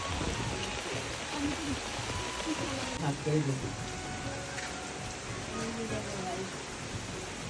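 Steady rain falling at Ludhua tea garden in Tripura, a dense even hiss throughout, with faint voices in the background.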